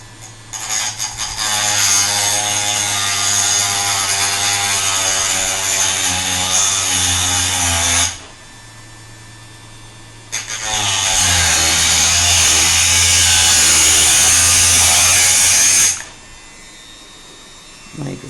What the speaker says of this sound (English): There's the Dremel. Hold it, line it up.